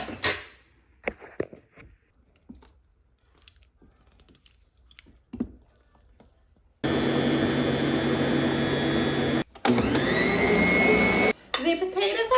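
An electric mixer beats mashed potatoes with a cream cheese mixture: a loud, steady whirring drone that starts abruptly after quiet kitchen clatter and low talk, stopping briefly once before running on, then cutting out.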